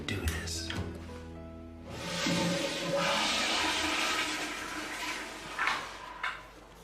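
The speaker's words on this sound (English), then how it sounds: "You ever heard of courtesy flush?" A toilet flushes with a loud rushing swirl of water that swells and then drains away over several seconds, preceded by some clattering movement.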